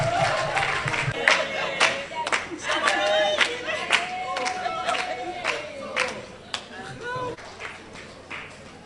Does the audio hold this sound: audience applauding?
yes